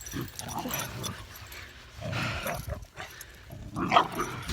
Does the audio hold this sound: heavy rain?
no